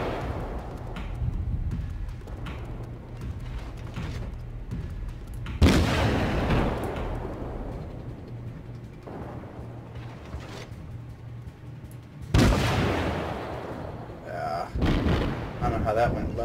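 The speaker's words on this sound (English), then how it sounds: "Only shoot the forward guns because we're trying to chase these guys down." Heavy forward naval guns of a warship booming in World of Warships, two loud salvos several seconds apart, each followed by a rolling rumble, over continuous engine and sea noise.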